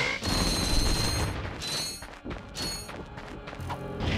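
Tesla gun firing in Ratchet & Clank (2002), producing loud crackling electric bursts in rapid repeated volleys with booming impacts mixed in, close and dense.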